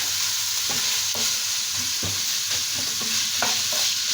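Minced meat with onion, garlic and green pepper frying in a pan, a constant loud sizzle with occasional scraping stirs, no talking.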